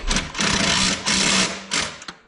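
Bursts of a power tool buzz in short pulses as a 14mm socket tightens bolts during assembly of an electric ATV, close and loud, with short pauses between runs.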